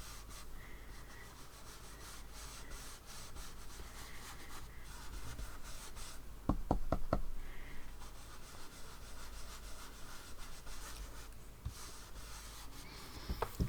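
Inks being blended on smooth paper make a faint, steady soft rubbing, with a brief cluster of light taps partway through.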